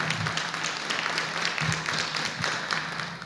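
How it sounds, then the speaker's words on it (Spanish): Steady crowd applause, a dense wash of clapping that holds for a few seconds without pause. "Le damos un fuerte aplauso"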